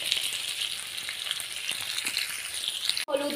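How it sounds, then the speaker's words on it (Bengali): Papaya and potato pieces fry lightly in a pan with a constant, fairly loud sizzling hiss that cuts off abruptly just before the end, leaving a brief quieter sound. "আলু, দিয়ে অল্প হালকাভাবে পেঁপে আর আলুটাকে ভেজে নিব।"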